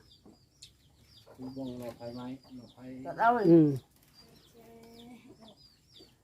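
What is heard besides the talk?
chickens clucking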